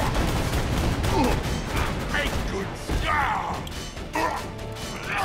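Autogun turret firing in the video game Borderlands 2, a loud, dense stream of gunfire with crashing impacts and bursts layered throughout, continuous with brief lulls.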